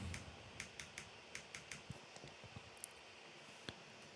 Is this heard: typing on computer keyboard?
yes